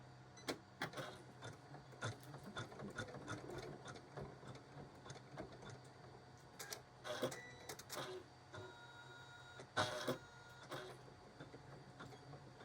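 An embroidery machine stitches an in-the-hoop appliqué quilt block through fabric and batting, a steady, fairly quiet mechanical whir with rapid rhythmic needle clicks and a few sharper bursts, with no voices.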